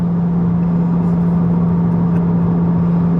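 A car cruising at 80 mph with its engine at 3,500 RPM, a loud, steady droning hum with constant road and wind roar inside the cabin, unchanging throughout.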